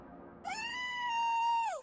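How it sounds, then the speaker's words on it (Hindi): A black cat in a horror story lets out one long, drawn-out meow, loud and close, holding a steady tone before falling off at the end. "तभी अचानक खिड़की के बाहर से एक काली बिल्ली अंदर कूदी"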